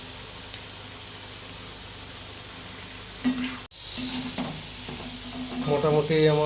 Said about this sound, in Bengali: মোটামুটি ডবল ফ্রাইয়ে যাই আমরা।